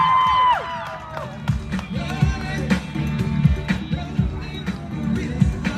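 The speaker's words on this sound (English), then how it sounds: "So how about a big round of applause for Paul Afumasanga?" A crowd at a Samoan flag day gathering in Utah applauds and cheers, with whoops and scattered clapping rising over a busy, lively background.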